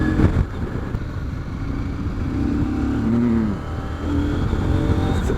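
A 2022 CF Moto 800MT motorcycle engine drones steadily under load while riding, its tone rising and falling with throttle through an uneven, surging stretch, constant and close with wind noise around it.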